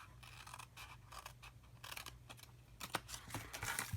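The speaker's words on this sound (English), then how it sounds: "carefully cut that one off right inside the score line" Scissors cut through a pre-made cardstock card base along its score line, a run of short crisp snips in irregular rhythm, close and quiet with no talking.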